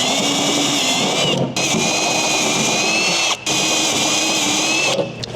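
A power drill widens holes to 3/8 inch for mounting an OE-style STI wing on a 2022 Subaru WRX. It whines steadily and loud up close, stopping briefly twice, with a short pause near the end.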